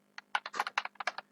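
About a dozen quick, crisp computer keyboard keystrokes in a fast, slightly uneven burst as a command is typed, close and quiet over a faint steady hum.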